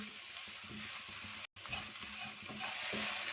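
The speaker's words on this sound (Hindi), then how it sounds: "1 खाने वाला चम्मच भर के मैदा लेंगे और इसे अच्छी तरह से भून लेंगे" Flour is roasted in a pan over low heat, giving a steady soft sizzle with faint scraping as it is stirred. The sound breaks once briefly.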